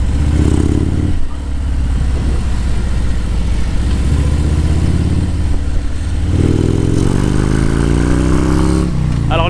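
Harley-Davidson Road King motorcycle engine on the move, a loud, close, continuous throbbing rumble that surges and rises in pitch as it accelerates, with a brief dip in the middle and wind roar throughout.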